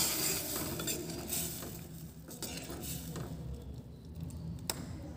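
A spoon stirs a mix of pigeon pea and urad dal frying in a pan, giving faint scraping and light clinks of metal over a soft background, quiet and close.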